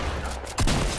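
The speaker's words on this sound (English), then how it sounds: "shots are coming in" A short burst of gunfire in a PS5 multiplayer shooter, a loud rapid volley kicking in about halfway through over steady game noise.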